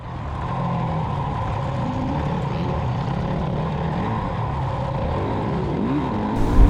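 A Honda CRF motorcycle from before 2017 runs on a race track mixing asphalt and dirt, its engine a loud, close, continuous drone that swells slightly near the end.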